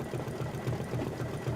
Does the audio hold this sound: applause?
no